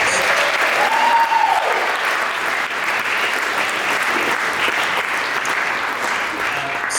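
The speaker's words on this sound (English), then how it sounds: "Big round of applause for our parents." Steady, dense applause from a crowd at a winter and spring sports awards ceremony, clapping loud and sustained throughout without pause.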